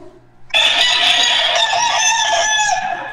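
A rooster crows loudly and close by in a gamecock rearing shed, one long sustained crow that starts sharply after a brief quiet moment and holds to the end.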